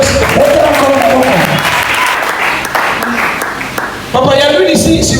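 A congregation claps loudly during a French-language church service. The applause is close and sustained, with raised voices layered over it and a fresh swell near the end.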